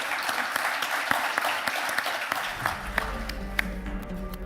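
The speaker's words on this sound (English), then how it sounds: "Please give the panel a round of applause." An audience at an international net-zero energy forum claps for a panel, sustained applause that thins toward the end as a low hum or music comes in beneath it.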